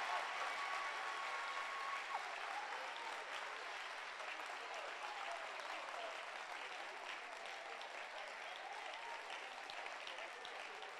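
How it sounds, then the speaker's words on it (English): A church congregation at a camp meeting in New York claps hands together, a sustained broad wash of clapping heard at a moderate distance that holds steady throughout. "I said clap your hands for that girl."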